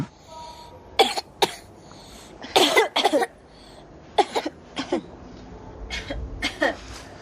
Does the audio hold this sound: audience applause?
no